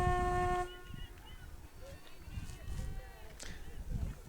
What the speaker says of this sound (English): The newly installed foghorn here at Tiger Field.